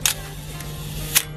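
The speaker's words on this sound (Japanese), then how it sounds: "ミノルタのね、SR1 なんですけど、まあ、シャッター全速動くんですね。" A Minolta SR-1 film camera shutter fires, giving a crisp mechanical click near the start and another at the end, close and sharp, separated by a quiet moment over a faint steady hum.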